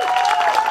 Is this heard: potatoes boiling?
no